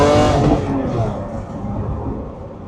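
A Lamborghini with a naturally aspirated V12 engine revs loudly from inside the cabin with the windows down, a rich high-pitched wail that peaks at the start and then eases into a fading, rumbling roar.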